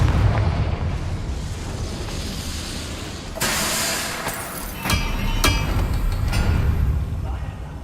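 Confringo fire-blast spell explosions in the Hogwarts Legacy video game, several loud booming bursts around the midpoint and after, with a sharp crackling blast near the middle, over steady game ambience.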